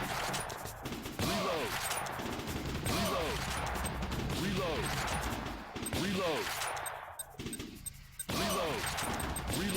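Gunfire from the House of the Dead light-gun arcade game comes in repeated loud bursts of shots, each volley followed by a sweeping electronic chirp, across nearly ten seconds with brief gaps between rounds.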